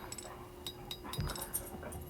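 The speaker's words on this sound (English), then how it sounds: "if you're hearing a bunch of noise in the background, it's my dogs. They're playing." Dogs playing in a knife-forging workshop, with faint whimpers, yips and scuffles in the background under a steady hum.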